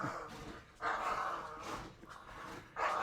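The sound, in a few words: dog barking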